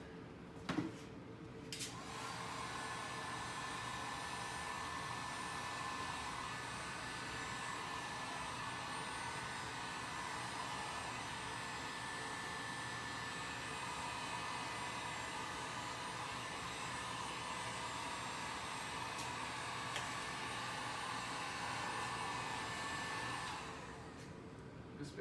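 A heat gun runs steadily for about twenty seconds while warming vinyl wrap during a chrome delete on an Infiniti Q50, a constant airy blowing roar that starts after a brief click and cuts off near the end, with no talking.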